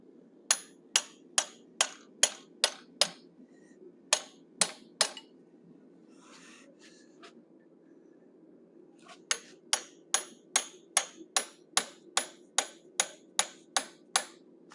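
A hammer strikes a straight cut chisel on metal while an animal head is forged, ringing out in two runs of evenly spaced, sharp blows separated by a short pause, close and loud.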